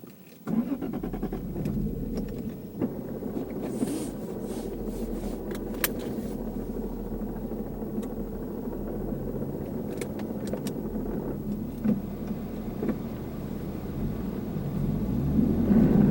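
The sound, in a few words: car engine starting and driving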